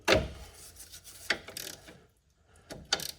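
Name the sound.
18mm wrench tightening nut on stabilizer link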